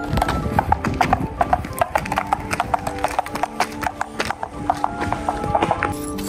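A horse walks at a steady pace, its hooves clip-clopping in a regular rhythm, close and fairly loud, with no talking over the steps.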